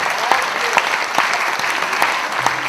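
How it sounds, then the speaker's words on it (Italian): Close, lively applause from an audience of young people clapping for themselves, with a few sharper individual claps standing out in an uneven rhythm and faint voices mixed underneath. "Fatevi un applauso."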